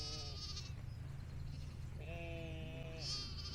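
Sheep bleat in a field at Wall End Farm in Langdale in the Lake District: two drawn-out, wavering calls, one early and one later, over a steady low hum of outdoor background.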